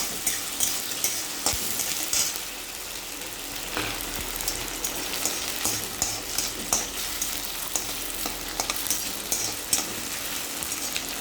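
Potatoes and onions frying in oil in a kadai, a continuous crackling sizzle with scattered sharp pops and periodic stirring scrapes, close and steady throughout.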